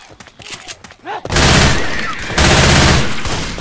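Burst of rapid gunfire in the Left 4 Dead 2 video game, loud and dense, erupting after a second of quieter game noise and continuing steadily, with a player's voice mixed in.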